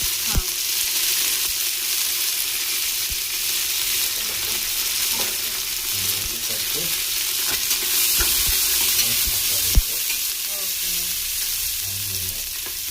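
Kasuri methi, green chilies and curry leaves crackle in hot oil in a home kitchen pan, giving a continuous frying hiss with scattered pops and occasional utensil knocks, and no voices.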